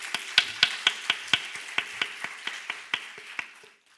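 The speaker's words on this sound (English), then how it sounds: "you should give all yourself a big round of applause" A small audience at the Ketagalan Forum Indo-Pacific Security Dialogue claps in a brisk, even run of sharp, close hand claps that thin out and fade after about three seconds.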